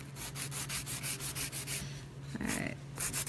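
A fingernail is buffed to remove its gloss, giving quick rhythmic scratchy rubbing strokes, soft and close, steady back-and-forth with a brief pause.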